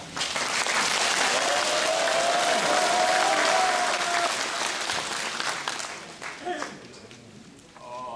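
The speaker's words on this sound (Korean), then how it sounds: "힘찬 박수로 격려합시다." A large rally crowd gives sustained, loud applause that holds steady for several seconds before tapering off, with a brief sustained tone and some scattered noise near the end.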